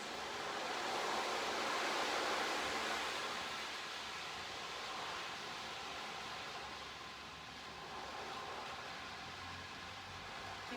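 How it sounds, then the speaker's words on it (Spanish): Ocean waves wash steadily along a beach in a soft, continuous rushing surf, gently swelling and easing at a moderate distance with no voices. "Sentís como las olas salpican tus piernas."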